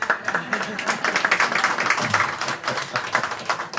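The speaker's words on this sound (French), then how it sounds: "Qu'est-ce qu'il faut pas faire pour qu'ils m'applaudissent?" Studio audience clapping and applauding during a Q&A session with two rabbis, a dense steady patter of many hands filling the whole stretch, with a voice talking faintly underneath.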